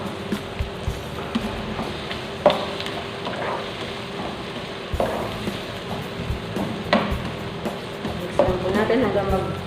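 Garlic frying in a pan for a potato and cauliflower curry, stirred with scattered scraping knocks over a steady, soft sizzle, with no voices.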